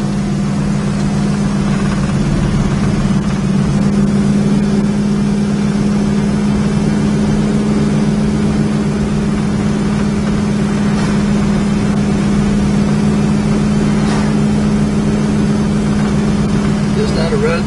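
A 1967 Dodge Charger drives along with a steady, deep engine drone held at an even pace throughout, loud and close from inside the car.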